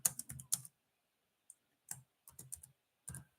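Fingers tap on a computer keyboard in quick bursts of close, crisp key clicks, separated by short silent pauses.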